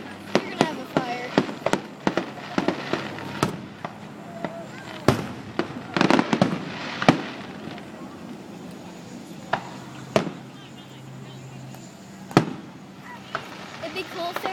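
Fireworks display bursting overhead at the Cabot fireworks show in 2012, a steady run of sharp cracks and booms at irregular intervals, some clustered in quick volleys, with people chatting in the background.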